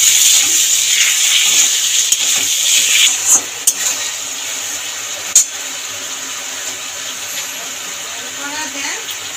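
Chalta pickle being stirred in a pan after sugarcane jaggery goes in, a steady soft sizzle with scraping stir strokes and a few light clinks against the pan, fairly close.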